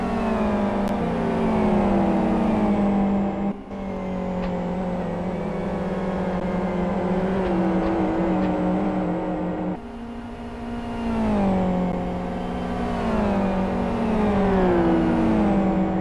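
Race cars in a 24-hour endurance race at Aston GP, engines droning and revving continuously with gear shifts and rising and falling pitch as they circulate, loud and steady without pause.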